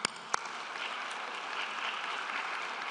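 Audience applause at the opening ceremony of a sociology world congress, a faint, steady patter of many hands in a large hall, preceded by a couple of sharper isolated claps at the start.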